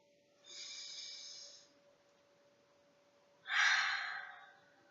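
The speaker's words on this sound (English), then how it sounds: "everyone let's take a nice big deep breath" Two deep breaths, each a broad airy rush: a long inhale around the first second, then a louder, sharper exhale or inhale a few seconds later. Both are close and alone against a quiet, steady room tone, with no talking.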